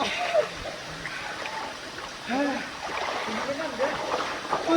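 Water flowing in a stream at a waterfall, a light, continuous rushing with occasional splashes, while people talk nearby.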